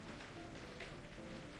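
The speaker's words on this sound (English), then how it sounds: "Oh, they have rain sound effects." Rain sound effects in the Doki Doki Convergence video game mod form a steady, even hiss of falling rain with no breaks and no other sounds.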